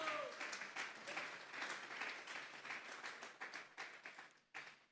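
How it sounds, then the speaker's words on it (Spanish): A church congregation claps in praise to the Lord during a sermon, starting as a thick burst of applause and then thinning into scattered, separate claps before one last cluster. "Vamos a darle un fuerte aplauso pues al Señor."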